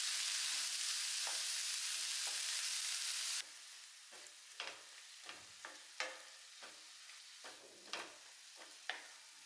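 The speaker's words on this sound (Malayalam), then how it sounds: "നമ്മൾ അരിഞ്ഞു വെച്ച വാഴക്കൂമ്പ് അത് ചേർത്ത് നല്ല പോലെ ഇങ്ങോട്ട് ഇളക്കിയെടുക്കാം നമുക്ക്" Chopped banana flower is added to a hot pan and stirred: a steady sizzle at first, then quieter frying broken by repeated scraping and clacking of a spoon against the pan.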